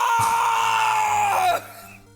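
A loud, sustained high-pitched scream from the Phoenix Wright: Ace Attorney game, holding one piercing tone for about a second and a half before cutting off sharply.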